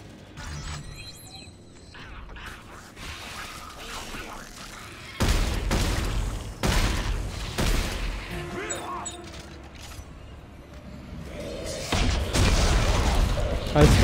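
Grenade launcher blasts and shotgun fire in the video game Dead Space 3, several heavy booms and bursts spread across the clip amid game noise, with a voice talking at times.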